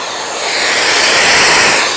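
A dust extractor on an old router setup roars with a loud, close, steady rush of suction that swells and holds, with nothing else audible.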